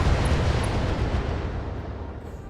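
Missile explosions in the BattleTech video game, a dense, roaring wash of blasts and crackle that fades slightly across the few seconds, with no talk.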